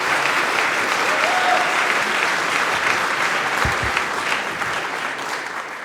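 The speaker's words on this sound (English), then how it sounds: "So a big round of applause for Alex," Conference audience at a Python lightning-talk session applauds, a dense, steady wash of clapping from a large crowd that tapers slightly toward the end.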